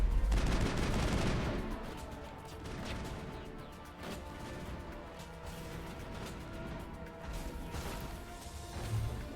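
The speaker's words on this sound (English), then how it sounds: "Oh, that's a rocket." Rocket blast and gunfire in the video game Mass Effect: a loud burst opening, then a sustained clatter of shots and impacts, with a further thud near the end.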